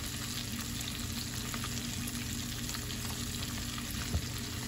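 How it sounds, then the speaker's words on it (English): Shrimp fry in hot oil with a steady, dense sizzle that holds evenly throughout, loud and close with no talking. "And voila, I fried shrimp"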